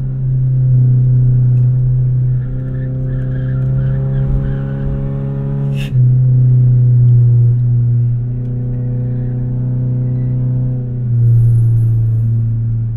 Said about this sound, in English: I don't know if this tire noise is going to translate on the video.